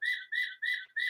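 A bird calls four times in a steady, evenly spaced series of clear whistled notes, fairly close and distinct against an otherwise quiet background.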